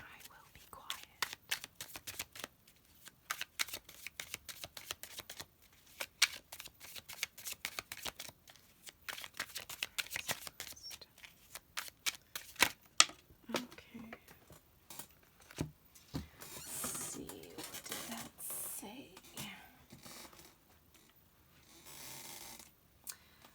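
Tarot cards shuffled close up in a quiet room, with a long run of quick, crisp riffling bursts and flicks in irregular clusters, soft and near, broken by occasional low murmured speech.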